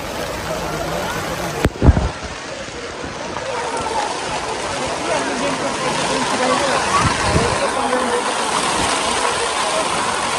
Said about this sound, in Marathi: एकदम जोरदार पाऊस आहे.